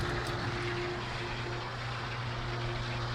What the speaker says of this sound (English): That's a sound of a self-priming pump actually priming.